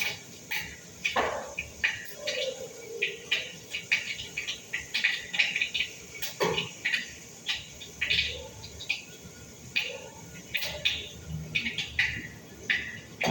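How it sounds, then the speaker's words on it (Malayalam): Mustard seeds pop and crackle in hot oil in a home kitchen, with scattered sharp snaps and sizzling bursts coming irregularly and fairly close. "കടുക് പൊട്ടുന്നുണ്ട്."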